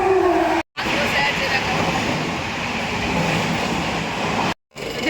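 Kolkata metro train ride in a nearly empty carriage: a loud, steady rumble and rush of the moving train fills the clip, briefly cut twice by short gaps.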